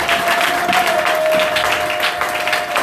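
A church congregation applauds during a worship service, steady dense clapping from many hands filling the room for a few seconds, with a faint sustained tone running underneath.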